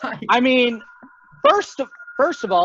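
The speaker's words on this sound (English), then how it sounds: "that's my phone going off, but whatever" A phone goes off with a steady electronic ring tone that runs beneath someone talking, faint under the speech.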